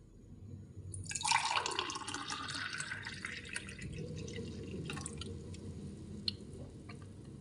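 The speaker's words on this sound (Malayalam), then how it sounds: "ഇനി ഇത് നമുക്കൊരു ഗ്ലാസ്സിലേക്ക് സെർവ് ചെയ്യാം." Green mango sambaram, a buttermilk drink, pours into a glass with a soft continuous splashing and trickling at close range, quiet and without talk.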